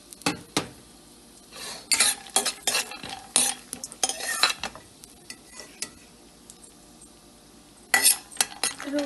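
Peanuts roasting in hot oil are stirred in a pan, with repeated spoon scrapes and clinks against the metal over a soft sizzle, close and irregular.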